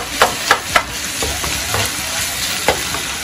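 Ground beef sizzles steadily in a pan on a home stove for lasagna, with a few sharp scraping stirs near the start and a lone clack later, close and constant.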